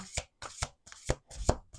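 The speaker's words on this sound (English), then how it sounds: "One more shuffle." A deck of oracle cards is shuffled in several quick riffling bursts, each a short crisp flutter separated by brief pauses.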